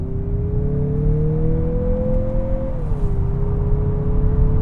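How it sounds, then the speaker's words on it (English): A 2023 Mazda CX-50's smooth engine hums through the exhaust in sport mode, its pitch rising gradually then dropping as the revs ease off, steady and close. "They have tuned a little bit of that engine note into the exhaust."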